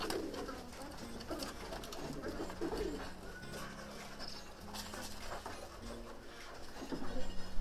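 Kara Bozalı pigeons coo in low, repeated rolling calls close by, over a soft background of fluttering and patter in the loft.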